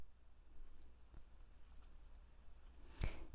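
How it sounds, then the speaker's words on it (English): A single sharp computer mouse click near the end, close and crisp against a quiet room, with one faint softer click earlier. "So I'm going to click there on Create an Account."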